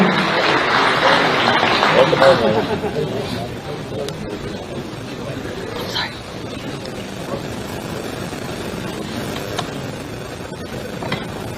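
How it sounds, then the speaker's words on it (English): An outdoor gathering welcoming Leonard Peltier home breaks into applause for Turtle Mountain relatives: a broad wash of clapping, loudest at first, then thinning and fading over several seconds. "Let's give all of our Turtle Mountain relatives a round of applause today."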